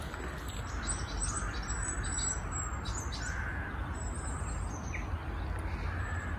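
Birds chirp and call outside on a grey October day in the UK, a scatter of short, bright tweets over a soft, steady background hum, fairly faint and with no talking.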